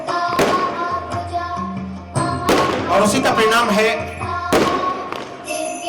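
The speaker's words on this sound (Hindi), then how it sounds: "कि ये शानदार आतिशबाजी" Booming fireworks at a JEE Main 2025 result celebration in Sikar, sharp cracks and thuds bursting repeatedly around someone speaking loudly over them, with crackling scattered between the bangs.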